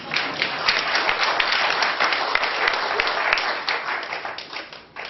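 Lecture-hall audience applause during a talk on Western European wood energy, a full, even burst of many hands clapping that holds steady and then fades near the end.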